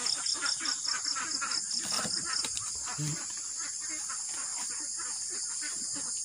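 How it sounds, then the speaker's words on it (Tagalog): Morning birdsong on a mountain farm, with repeated chirps and calls alongside insects and a constant high buzz, plus a few faint duck or fowl sounds in the background. "Ang mga ibon naririnig mga huni nila sa umaga."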